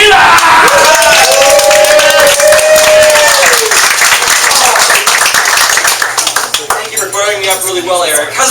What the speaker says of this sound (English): let's all do a round of applause